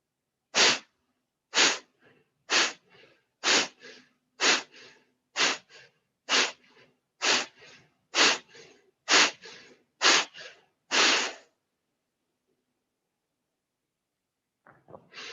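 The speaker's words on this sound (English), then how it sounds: "We're going to be exhaling out of our nose and just focusing on the exhale." Twelve sharp, forceful nasal exhales in an even rhythm about one per second, close and loud, then silence with a faint breath at the end, during a pranayama breathing exercise.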